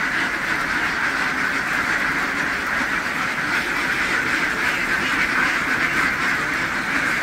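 A flock of native ducks just unloaded from a truck quack in a dense, continuous chorus, loud and close, with no pauses and no talk over it.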